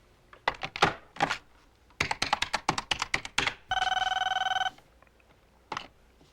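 A telephone bell rings once in a long, buzzing burst, set between clusters of sharp clattering taps before and a single faint tap after.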